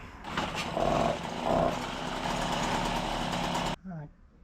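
An MBK 40V moped fitted with an AV7 boudin exhaust revs with a buzzing two-stroke drone, swelling twice before cutting off abruptly near the end, with a voice briefly heard afterward.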